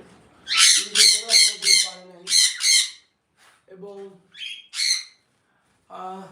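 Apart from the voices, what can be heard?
pet sun conure and cockatiel birds squawking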